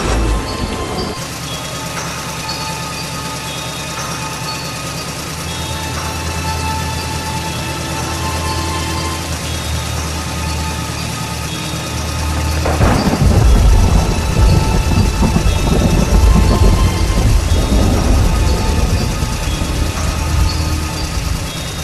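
Heavy rain pours steadily in a dense, constant wash, with a louder rumbling surge partway through that fits rolling thunder in a storm, no voices present.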